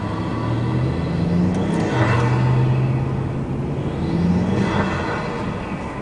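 A 2005 Saab 9-3 2.0T launches in first gear with wheelspin, its engine droning steadily as the revs rise and fall in two surges, close and loud with no talking.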